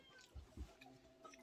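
A cat meows faintly outside in the cold, wanting to be let in, with two short low calls close together, while quiet voices talk nearby in a rural home.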